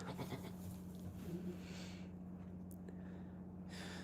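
Goats in a barn give a few faint bleats and snorts over a steady low hum, sounding soft and a little distant.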